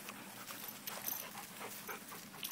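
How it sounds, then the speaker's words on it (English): Dogs playing close by give quick, breathy panting with a few soft vocal bursts, faint and busy across a couple of seconds. "I hear you doing a lot of barking, but not much mixing it up."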